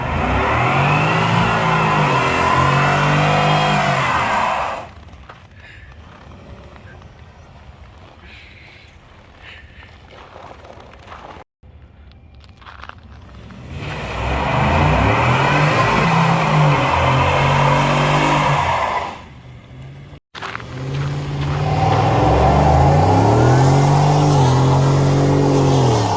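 Stock-exhaust 2023 Ford F-150 pickup revving hard against the brakes in a burnout, three long loud bursts of climbing engine roar separated by quieter idling stretches, close to the truck.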